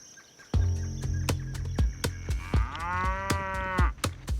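Cattle in the Pantanal wetlands of Brazil moo loudly and close, one long drawn-out low call rising in the middle, set against a steady chorus of insects and repeated sharp clicks.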